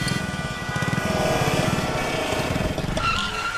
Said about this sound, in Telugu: ఇంత ట్రాఫిక్ జామ్ అయింది?